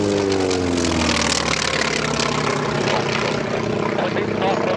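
Warbird propeller aircraft making a pass down the runway at EAA AirVenture, its engine a loud, continuous droning roar with a shifting pitch as it goes by, and an announcer's voice beneath it.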